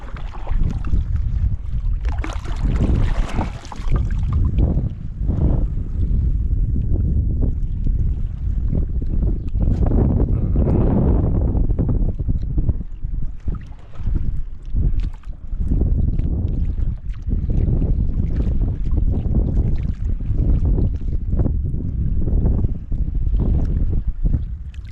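Strong gusting wind buffets the microphone during a typhoon on the water near a small fishing boat, roaring in loud, uneven blasts that fill the scene, with water sloshing beneath.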